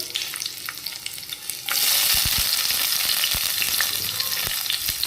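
Sliced onions hit a hot pan for aloo dum kosha and burst into a loud, steady sizzle, with scattered scraping stirs over the frying after a quieter opening moment.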